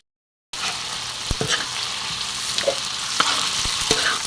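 Shrimp for pancit sizzle and fry steadily in a hot pan, with occasional stirring clinks and scrapes close up after a brief moment of silence at the start.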